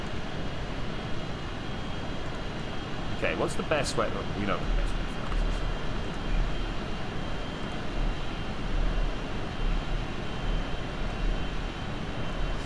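Steady engine drone of a plane in level flight in Kerbal Space Program runs continuously and fairly quiet beneath someone talking.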